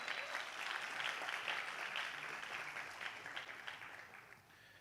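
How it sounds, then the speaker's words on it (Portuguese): A church congregation applauds, a soft, steady wash of clapping that gradually fades out over about five seconds, heard from a distance. "aplaude o Senhor em nome de Jesus."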